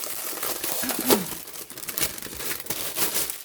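A planner's plastic packaging bag crinkles and rustles in short bursts during unboxing, close to the microphone, with one sharper crackle partway through.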